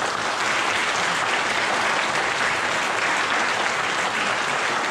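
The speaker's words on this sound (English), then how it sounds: "So you guys, give them a big round of applause." Applause from an audience at a fishing meet and greet, a thick, continuous wash of clapping from a sizable crowd, steady and loud throughout with no talking on top.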